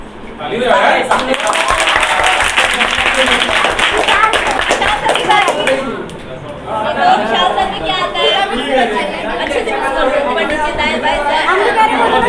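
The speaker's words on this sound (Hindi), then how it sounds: "ताली बजा यार।" At a school Teacher's Day celebration, a group claps steadily amid lively chatter from a crowd. The clapping thins briefly partway through and then carries on loud and close under the voices.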